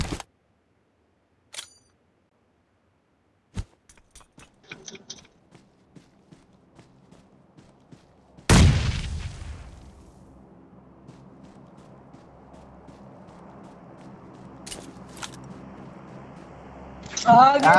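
A grenade goes off in the battle-royale game PUBG: after scattered clicks and footsteps, a sudden loud blast hits and trails into a long low rumble, with a few sharp noises following.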